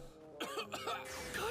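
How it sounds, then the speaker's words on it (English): A cartoonish throat-clearing cough from an anime character, a couple of short rough bursts with a tonal music bed underneath, lasting just over a second. "I can tell that coughing from anywhere."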